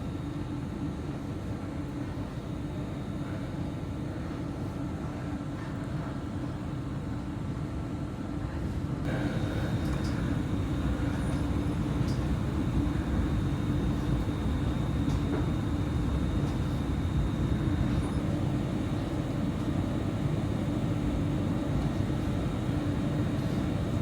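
A ScotRail Class 334 electric train pulls out of Edinburgh Waverley, heard from on board as a steady low rumble and hum that swells slightly louder partway through and continues evenly to the end.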